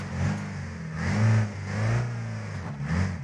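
A Ford Transit van engine in an off-road video game revs in repeated surges, climbing and falling in pitch close up, with no talk over it.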